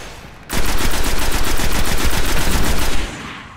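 Rapid automatic gunfire from the video game Destiny: a loud, dense burst of repeated shots that runs for about two and a half seconds, then stops abruptly.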